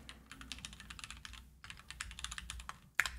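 Rapid keystrokes on a computer keyboard while entering container settings, a steady run of close, crisp clicks with a brief pause midway and a sharper final key press at the end.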